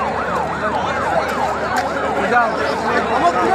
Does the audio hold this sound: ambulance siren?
yes